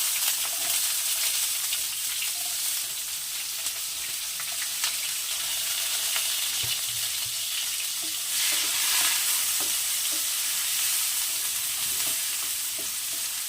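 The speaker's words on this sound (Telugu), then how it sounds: "ఆయిల్ హీట్ అయిన తర్వాత దీంట్లో ముందుగా ఆనియన్స్ వేద్దాము." Onions frying in hot oil give a loud, steady hissing sizzle, close by, with a few faint clinks of stirring and no voices.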